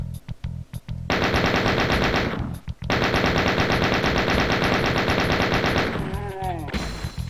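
Rapid automatic gunfire from the DOOM II video game, loud and sustained in long bursts with a brief pause, ending in a few tonal game effects.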